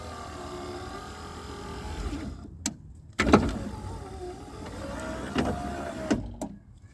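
Electric window motor in the door of a 1996 Honda Civic with a derailed window, whirring steadily near the microphone with a few sharp clunks and knocks as the glass moves.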